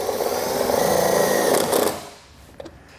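A power screw gun with an 8mm socket drives a self-tapping screw into a 2020 Chevrolet Sonic, a loud steady whir lasting about two seconds before it stops, followed by a small click.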